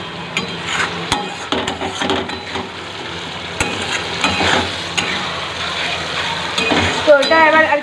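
Fish curry with green chillies frying in a pan, a steady sizzle with repeated scraping and knocking of a spoon against the pan, sharp clinks now and then, and a voice talking at times in the background.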